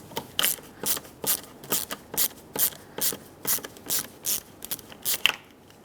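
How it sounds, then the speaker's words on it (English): A Phillips head screwdriver backs out the seat recliner handle screws on a 2003-2009 Dodge Ram 2500, making a steady run of about a dozen sharp ratcheting clicks, close and fairly loud, with no talking. "take a Phillips head screwdriver and remove your handle"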